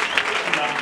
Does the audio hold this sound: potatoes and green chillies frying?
no